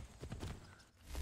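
Horse hooves clip-clopping in the video game Assassin's Creed 3, a quiet run of soft repeated hoof beats with a brief whinny-like tone, building to a louder thump at the end.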